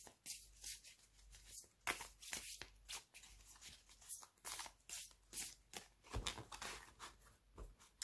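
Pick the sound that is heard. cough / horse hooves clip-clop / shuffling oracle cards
shuffling oracle cards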